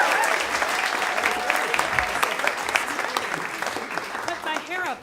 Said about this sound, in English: How about a huge round of applause for Sharon Spell.